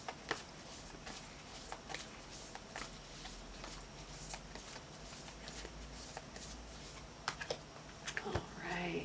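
Crisp, rapid tarot card shuffling with repeated riffling bursts and soft clicks, close by, with a brief rustle near the end.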